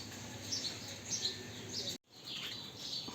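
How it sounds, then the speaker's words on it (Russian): Sparrows chirp inside a shop, a flurry of near, high, repeated tweets in bursts, briefly cut off, then resuming with more chirping. "Такое чириканье воробьев."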